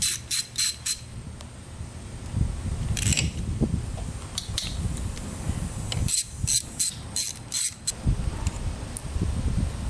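Hand tools working on the engine covers of a Yamaha Raptor 660 quad, with bursts of sharp clicking and ratcheting near the start and again later, over a low background rumble.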